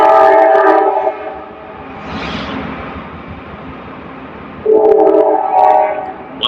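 A train rolls past nearby with a loud, sustained rumble while its horn blares in long tonal blasts at the start and again near the end, with clanking rail noise in between.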